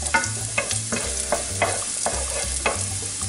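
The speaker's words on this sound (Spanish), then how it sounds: "Ponemos los ajos a fuego lento" Garlic cloves frying gently in hot oil over low heat, a steady soft sizzle broken by repeated scraping stirs at a near, even rhythm, with no talking.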